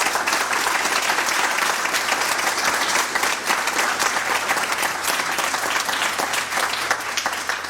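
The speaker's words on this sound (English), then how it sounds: "Can we give them another round of applause?" Sustained applause from a town hall audience, dense steady clapping that stays loud and even throughout without pause.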